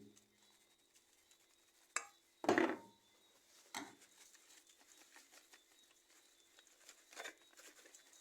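Fish seasoning is shaken over raw fish for a curry coconut fish dish, making a few short, quiet pattering bursts, the strongest near the middle, with hushed pauses between and no talk.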